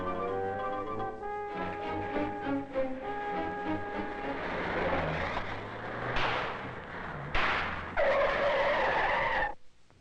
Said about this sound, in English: The distance that the vehicle travels between the instant the brakes are applied and the place where it stops can then be accurately measured